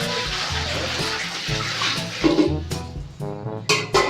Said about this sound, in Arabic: الميه شغاله يا جدعان